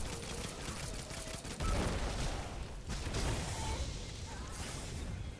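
Gunfire in Destiny 2 crackles in dense, continuous volleys with heavier thumping shots mixed in, close and busy, while a voice talks over part of it.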